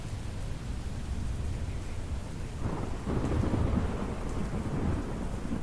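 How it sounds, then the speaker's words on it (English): A heavy rainstorm in the Roblox game Twisted hisses steadily, swelling louder midway with a deep rumbling rush of downpour and thunder-like weight. "We are hitting some heavy rains now."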